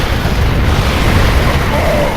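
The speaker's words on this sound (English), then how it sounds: "And here come the Banelings. Kaboom!" Baneling explosions in StarCraft 2 erupt as a dense, loud booming rumble that fills the whole stretch with steady low-end roar and crackle.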